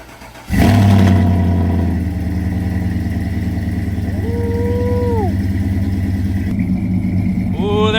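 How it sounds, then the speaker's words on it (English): A Chevy engine cranks and fires up with a loud roar, settling into a steady rumbling idle with a brief rising rev, close by and without talk. "See if it'll start. Oh, battery ain't dead."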